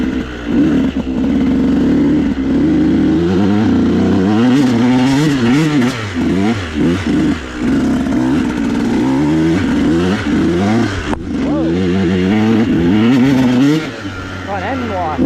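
A 150sx dirt bike is ridden at mines and meadows, with its engine revving loudly and the pitch rising and falling continuously, and a rider talks over it.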